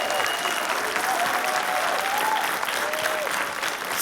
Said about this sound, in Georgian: კიდე ბევრი ტაში გვინდა ბევრი